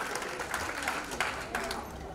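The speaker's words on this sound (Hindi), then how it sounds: "तालियां एक बार जोरदार तालियां बजाकर माहौल दीजिए" Audience applause rises at a Hindi comic poetry gathering (kavi sammelan), a steady wash of many hands clapping with a few louder bursts, moderately near and continuous throughout.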